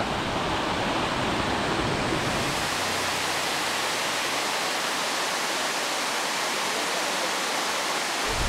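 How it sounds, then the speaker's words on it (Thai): Thalalak waterfall pouring down a cliff face, a steady, loud broadband rush of falling water that fills the whole clip without pause. "ตรงนี้ก็เป็นน้ำตกทาลาลักเป็นน้ำตกที่ไหลลงมาจากหน้าผานะครับ"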